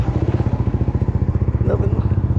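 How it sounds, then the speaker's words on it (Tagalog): A motorcycle engine putters close by with a steady, rapid pulsing chug as it arrives, loud and alone, with a faint brief clatter partway through. "Ang dating motor."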